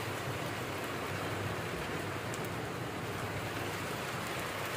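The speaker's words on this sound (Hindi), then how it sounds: "क्या ही तेज़ बारिश हो रही है अभी" Steady, heavy storm rain pours down on a rooftop in a constant dense hiss, with no gaps or voices throughout.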